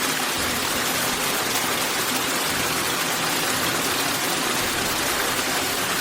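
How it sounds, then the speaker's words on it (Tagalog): A strong waterfall rushes in a continuous, loud, even roar of broadband white water with no pauses and no voices. "mayroong malakas na talon."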